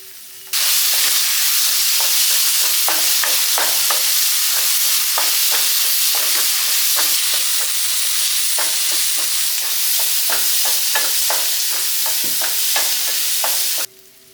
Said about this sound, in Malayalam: ഇതൊന്ന് നന്നാക്കി വഴറ്റിയെടുക്കാം